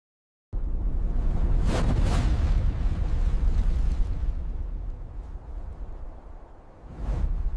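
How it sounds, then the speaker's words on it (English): A sudden massive AI-generated asteroid explosion erupts from silence into a sustained deep rumbling roar, slowly easing before a second surge near the end. "VEO3 captured the explosion beautifully"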